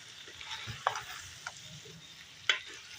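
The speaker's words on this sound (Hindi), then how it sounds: "शिमला मिर्च की अब हम भुनाई करेंगे 4 से 5 मिनट" Beef mince and bell peppers fry in a pan with a soft, steady sizzle, broken by a few sharp clicks of a spoon against the pan as it is stirred.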